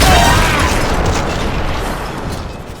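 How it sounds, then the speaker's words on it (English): A single explosion in the video game Metal Gear Solid: Peace Walker, a loud boom at the start that decays into a rumbling, noisy tail over a few seconds. "An explosion?"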